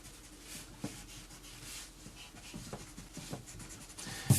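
A pencil eraser rubs across paper while a drawing is cleaned up, heard as faint, close, scratchy strokes in an irregular back-and-forth rhythm with a few soft taps.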